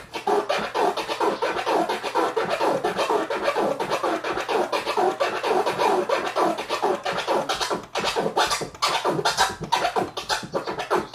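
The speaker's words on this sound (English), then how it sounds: "this is with no accent." Continuous DJ turntable scratching played without accents, a steady run of strokes that stays loud and close with only a brief dip near the end, and no talking.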